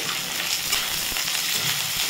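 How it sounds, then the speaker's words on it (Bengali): Onion frying in oil with five-spice seeds, a dense, even sizzle held close and loud throughout, with no talk. "এখন 5 ফোড়ন দিয়ে পেঁয়াজটাকে একটু ভেজে নেব।"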